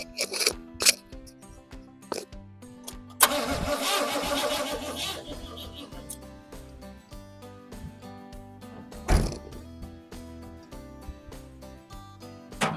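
A 1986 GMC Sierra fitted with a new battery cranks over, its starter churning in a burst that catches into rough engine noise among scattered clanks, recorded close by with no talking.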